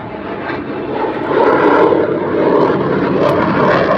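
Several fighter jets fly overhead, making a loud, steady roar that swells and holds, with no voices over it.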